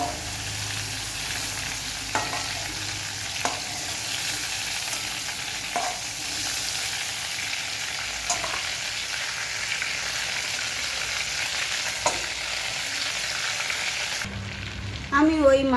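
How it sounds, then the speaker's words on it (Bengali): Prawns frying lightly in oil give off a continuous, even sizzle with occasional soft stirring knocks, close and steady, without talk. "মাছগুলোকে আমি খুব বেশি ভাজবো না, হালকা করে একটু ভেজে নেব।"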